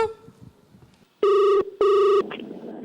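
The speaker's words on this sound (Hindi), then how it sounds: "उसी हंसी को आगे बढ़ाने आ रहे हैं प्रिंस अपना लाइव फोन कॉल लेकर" A telephone rings twice in two loud, close electronic bursts, each lasting about half a second, after a quieter stretch of background sound.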